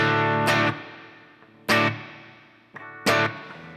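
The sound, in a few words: electric guitar with cathedral reverb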